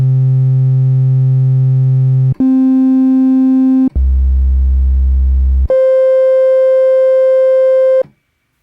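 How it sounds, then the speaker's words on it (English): A Roland JP-08 synthesizer plays oscillator 1 set to a sine wave, four sustained steady tones at different pitches, each held about two seconds with abrupt changes between them, alone and clean before cutting off. "I have it at a sine wave here, and just gonna have a listen to this here. It's just oscillator 1."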